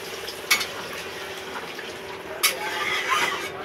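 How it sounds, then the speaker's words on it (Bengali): Water poured into a pan of fried potatoes and egg omelette curry, a steady liquid hiss with two brief splashy bursts as it hits the hot pan, close and moderately quiet. "এই যে আমি জল দিলাম, আমার আন্দাজ পরিমাণে জল দিব।"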